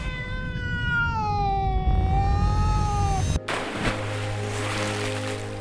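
A cat lets out a long, drawn-out wailing meow, loud and close, followed by a sudden cut to rushing water-like noise.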